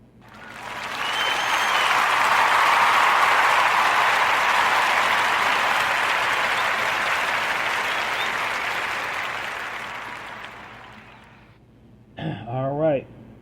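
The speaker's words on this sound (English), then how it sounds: "Let's give her a warm Narrative Podcast round of applause" A warm round of applause swells from a crowd, dense clapping that builds, holds steady for several seconds and slowly fades before a voice speaks.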